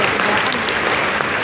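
A church congregation claps in a short, loud wash of applause, continuous and unbroken across the moment.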